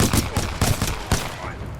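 Rapid rhythmic bursts of gunfire from a Titanfall 2 firefight. Several loud, close shots land in quick succession and then fade out.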